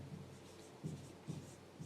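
Chalk writing on a blackboard during a class 10 science lesson on light, a few soft scratchy strokes in quick succession, close and fairly faint.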